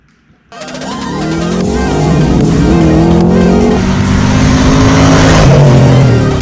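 A Fox Body Ford Mustang convertible's engine starts and revs hard, rising from silence into a loud, sustained roar with climbing and falling pitch, heard up close with no speech.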